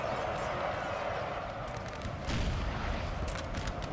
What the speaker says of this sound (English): the artillery, you can see, is starting to flatten the enemy